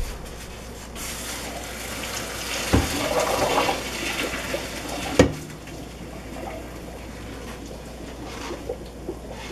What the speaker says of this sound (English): I'm going to take this over to the sink and strain it